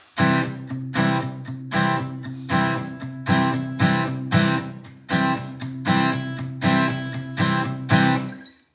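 Steady acoustic guitar strumming in a repeating rhythm, about two accented strums per second with lighter strokes between, close and bright with no voices.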